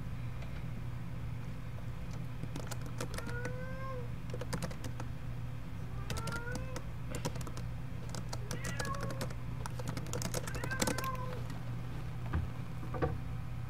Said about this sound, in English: That's my cat, if you can hear her.